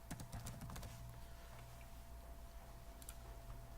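Quiet, rapid keystrokes rattle on a computer keyboard in bursts at the start and again near the end, with a quieter stretch in between and a faint steady hum beneath.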